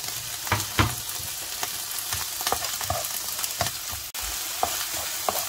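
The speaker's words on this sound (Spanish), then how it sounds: "vamos a freír cebolla, pimientos" Onions and peppers frying in a pan for a potato and ground meat pie, a constant soft sizzle broken by repeated clacks and scrapes of a spoon stirring them, fairly quiet and steady.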